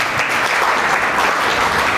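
Audience applause at a college lecture gathering in India, a dense, steady wash of clapping that holds evenly loud throughout with no voices on top.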